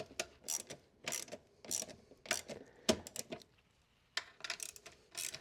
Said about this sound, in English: So get your 12mm socket and just start tightening down